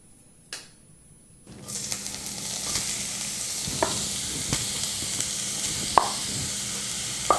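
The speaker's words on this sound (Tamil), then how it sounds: "இப்போ நம்ம அடுத்ததாக திருகின கேரட்டை வந்து வதக்கிக்கலாம்" Grated carrot dropped into hot ghee, where a near-silent start gives way to a sudden loud, steady sizzle with occasional sharp clicks of a spoon against the pan, close and alone.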